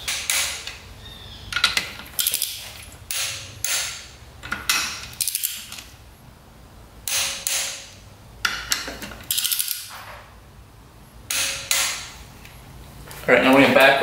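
Ratcheting torque wrench clicking and metal fittings clanking while bolts on a race quad are tightened to 22 foot-pounds, with repeated bursts of short ratchet passes separated by pauses, close and fairly loud.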